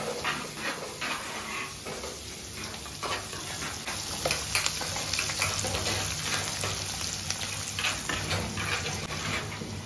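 Garlic and asafoetida frying in hot oil in a pan, a loud, dense crackling sizzle with repeated spatula stirs and scrapes, close up and continuous throughout.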